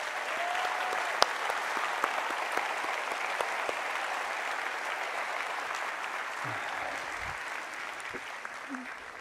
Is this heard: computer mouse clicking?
no